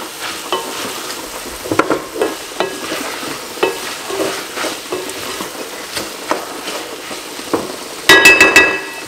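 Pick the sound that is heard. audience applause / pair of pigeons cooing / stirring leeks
stirring leeks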